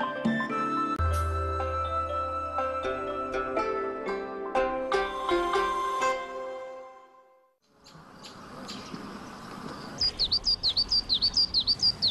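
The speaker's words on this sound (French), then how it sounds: "une amatrice inconditionnelle de chants d'oiseaux" Birds sing by the water in the aquatic gardens of Yidu. Melodic tones come first; then close chirps and calls take over, ending in a run of rapid, repeated trills.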